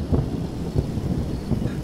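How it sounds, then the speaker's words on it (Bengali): Heavy downpour with rolling thunder on a stormy night: a dense, steady wash of rain broken by low rumbling swells, loud and close, with no voices. "কিছুক্ষণের মধ্যে শুরু হলো মুষলধারে বৃষ্টি ও ঝড়"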